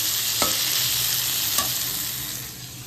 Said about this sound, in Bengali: উচ্ছে দিয়ে আলু দিয়ে ভাজা করছি।